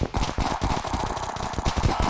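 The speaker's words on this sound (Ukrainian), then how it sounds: "по мені хтось стріляє" Sustained automatic gunfire in the video game Dude Simulator, rapid continuous bursts of shots filling the whole stretch at steady high loudness with no talk.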